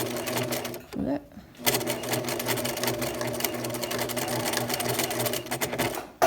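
A Singer sewing machine stitching a fabric face mask, a rapid mechanical chatter that runs steadily after a short pause and stops abruptly at the end.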